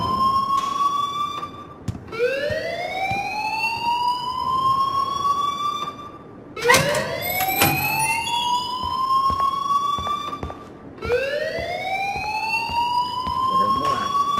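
An alarm in the video game Life Is Strange sounds in repeated rising electronic wails, each sweeping upward and then holding, cycling about every four seconds, loud and continuous.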